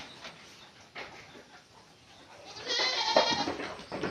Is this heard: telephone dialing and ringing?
no